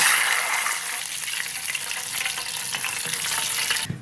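Sichuan peppercorns frying in hot oil in a wok, a steady bright sizzle with crackling bursts, close and continuous before a brief clatter at the end.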